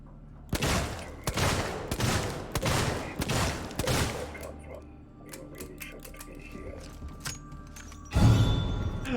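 Gunfire from a gun in Alien: Isolation, a few loud sharp bursts of shots over the first half, then quieter clicks and mechanical rattling with another heavy burst at the end; a voice talks faintly.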